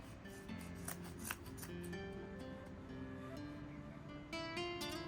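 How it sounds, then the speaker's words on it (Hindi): Scissors cut through wool yarn for a tassel, several crisp snips in a quick irregular series, close and clear over a faint background hum with no talking. "अब हमें क्या करना है, इस तरीके से कैंची से काट लेना है।"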